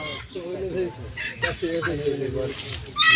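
A large rooster, over a kilogram, clucks and crows loudly up close amid a busy village poultry market, with people chattering nearby throughout.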